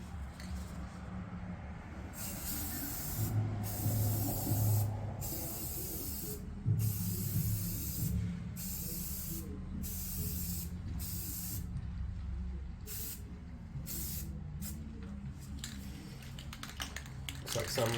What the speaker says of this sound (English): Just using some Rust-Oleum high performance flat black here.